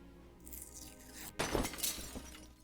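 In the video game Deponia Doomsday, a bird crashes through a stained glass window: a sudden loud shatter of breaking glass followed by a short spray of falling shards, with no talking.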